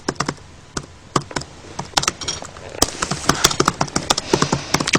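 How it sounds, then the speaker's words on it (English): Computer keyboard typing in a studio during a live interview, with brisk irregular clicks and clacks that come close and fairly loud and pick up in density partway through, with no talk. "I talk too much for him to be typing."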